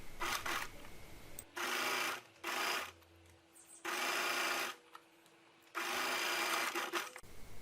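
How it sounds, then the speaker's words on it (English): A sewing machine stitching a seam on pinned fabric pieces, running in four separate loud bursts of rapid needle whirring with quiet pauses and small handling noises between them. "And we are ready to sew."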